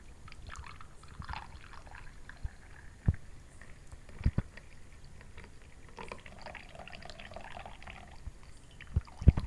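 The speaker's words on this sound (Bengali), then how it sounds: "আমি সমস্ত চাটা এই কাপটার মধ্যে ঢেলে নিলাম" Tulsi leaf tea being poured into a cup at home, a soft, low liquid trickle with a few light clinks and drips scattered throughout.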